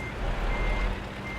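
Reversing alarm of a truck backing up in Euro Truck Simulator, a steady tone over the low engine rumble, fairly quiet and continuous.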